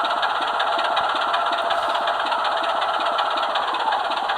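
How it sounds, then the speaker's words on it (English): A model Class 24 diesel locomotive engine idles steadily with a regular rapid ticking knock over a bright mechanical hum, close and even throughout, with no talking. "So that's the engine up and running."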